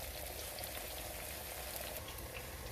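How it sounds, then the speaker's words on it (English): Chopped onions sizzle in hot oil for a chicken biryani, a soft continuous crackling hiss with fine popping, faint and steady with no talking. "when the oil has gone hot, because it makes that little sizzle sort of noise"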